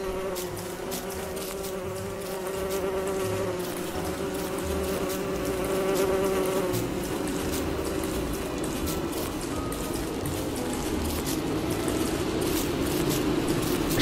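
Bees buzzing in the survival video game Don't Starve, a dense, steady swarm drone with a brief tonal hum early on, over scattered rain-like ticks and patter, fairly quiet throughout.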